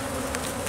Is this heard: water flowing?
no